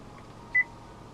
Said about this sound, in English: the beep when you touch the display